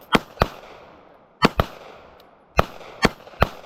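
Handgun fire at a shooting range: seven loud, sharp cracks in irregular pairs and singles, each ending in a brief outdoor decay, with no talking between the shots.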